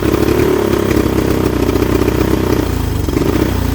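A 1983 Honda 200e three-wheeler engine held at full throttle, a loud, steady, buzzing single-cylinder roar with clattery texture, close and continuous with no talk.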